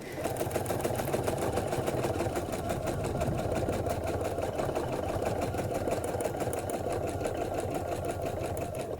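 A home embroidery sewing machine stitches a spring floral block with a fast, continuous mechanical whir and rapid needle clatter, steady and close for the whole stretch, with no talking.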